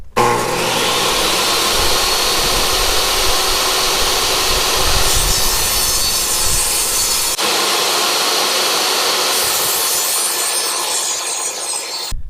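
A wooden base plate piece for a range hood vent chimney is cut with a power saw, a loud, continuous rasping cut running steadily for about seven seconds, briefly pausing, then continuing at full level until the end.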